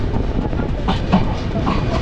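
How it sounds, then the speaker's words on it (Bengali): A train running at Poradah railway station in Bangladesh, giving a steady, fairly loud rumble with rail clatter throughout and no clear talk. "এদিক দিয়ে কিন্তু একটা ট্রেন আসছে"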